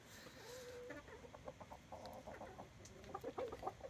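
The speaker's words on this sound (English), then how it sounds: "watch this pumpkin disintegrate with the chickens" Faint, low clucking from several chickens eating a pumpkin over a steady background hiss, with soft pecking sounds and quick clucks growing busier toward the end.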